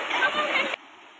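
Water rushing over a small waterfall and along a village stream makes a steady, loud broadband roar for under a second before cutting off abruptly to near silence.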